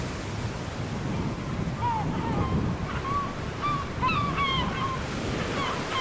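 Steady broadband wash of surf on a shoreline once used for glass bottle production, rolling continuously at moderate loudness with wind noise, while faint bird calls or honks chirp briefly above it in the second half.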